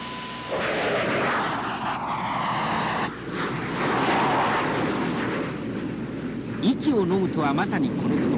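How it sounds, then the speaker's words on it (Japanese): A steady roar of Blue Impulse aerobatic jets flying in formation fills the air, loud and sustained, with a voice briefly audible near the end. "1番機と4番機が同時に仰向けになって飛ぶダブル背面飛行"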